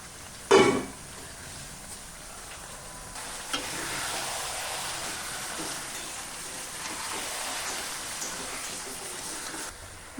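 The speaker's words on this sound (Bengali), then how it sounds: "মেখে রাখা মাংসটা দিয়ে দেব। ঢাকা দিয়ে দেব 1 মিনিট।" Marinated mutton goes into a hot pan and is covered: a sharp burst of sizzling at the start, then a steady rain-like frying hiss that continues at moderate level under the lid.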